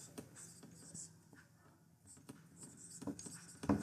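Pen scratching on paper while working through a mensuration math problem, faint intermittent strokes with small taps, close and quiet.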